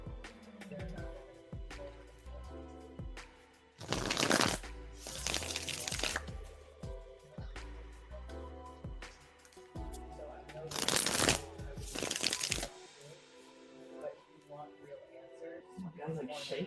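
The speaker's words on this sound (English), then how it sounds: "All right, I'm shuffling for you now." Tarot cards being shuffled in repeated riffle bursts, crisp and close, with quieter handling and card slapping between the louder runs; no talking.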